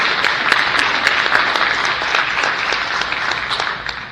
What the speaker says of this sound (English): So give all three of them a round of applause.